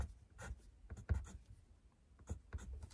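Pencil scratching on paper during homework, with short bursts of strokes in an uneven rhythm, close and fairly quiet, and no voices.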